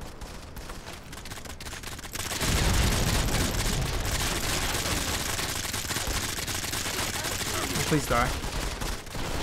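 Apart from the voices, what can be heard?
gunfire from an automatic weapon in the video game Modern Combat 5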